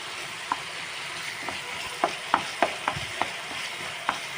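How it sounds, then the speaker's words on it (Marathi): Prawns stirred in a pan with garlic, the spatula knocking out irregular clicks and scrapes over a steady low sizzle, close and fairly quiet. "मागीर न्हू ही सुंगटां सगळीं अशें करून मिक्स करपाचीं हितून गार्लिकान बरीं मिक्स करायची"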